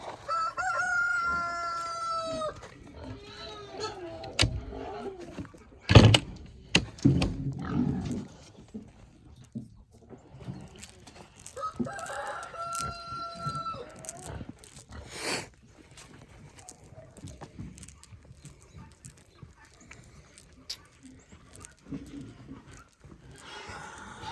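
Chickens clucking and a rooster crowing inside a homestead barn, with bursts of clucks and calls near and far, some clattering, and a person talking at times.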